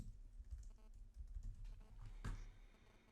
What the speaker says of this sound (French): j'ai le micro qui est au milieu de mon clavier